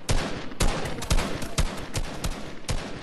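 Gunfire from Fortnite, a run of sharp, loud shots in an uneven rhythm, roughly eight cracks spread over a few seconds with brief gaps between them and no talking.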